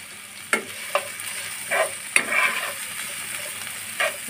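Ginger garlic paste, chopped onion and green chilli sizzling in hot oil while a spatula scrapes and stirs in a few sharp strokes, close up with no voices.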